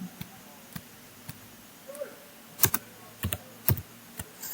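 Typing on a computer keyboard while entering a PowerShell command on a Windows Server 2012 machine: sparse single key clicks early, then quicker clustered bursts of keystrokes, close and fairly faint, with no talk.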